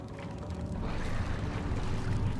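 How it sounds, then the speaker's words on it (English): Well rope being pulled in Amnesia: The Dark Descent, a continuous creaking, ratcheting mechanism with a low rumbling scrape, moderately loud and unbroken. "Something is pulling the rope."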